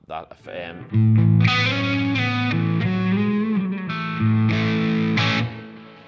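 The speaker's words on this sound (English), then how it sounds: "that's kind of washing that delay out and putting a little bit of reverb in there" An electric guitar through a Line 6 Helix rings out with heavy delay and reverb, notes repeating and smearing into a washy, echoing tail.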